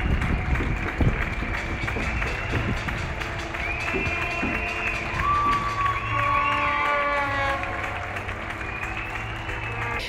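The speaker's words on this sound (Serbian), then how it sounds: "I svako veče u 7 čuje se aplauz za zdravstvene radnike" Evening applause for health care workers rings out across Vancouver: a steady wash of distant clapping and cheering from many people, with whistles and tonal calls sliding over it for about ten seconds.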